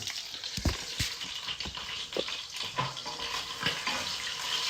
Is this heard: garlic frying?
yes